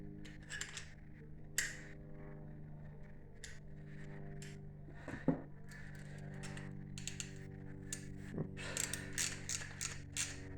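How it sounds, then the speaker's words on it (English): A socket ratchet tightens the bolt on an engine idler pulley. Repeated close clicking ratchet strokes come in short bursts over a constant low mechanical hum, with a few sharper metallic knocks between them. "And I use my socket to tighten it up."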